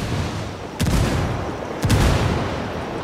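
Two frag grenades explode in Ghost Recon Wildlands during an attack on a church, each a sudden heavy boom with a decaying rumble, about a second apart, over steady game background noise.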